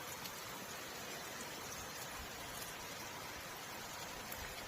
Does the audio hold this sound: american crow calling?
no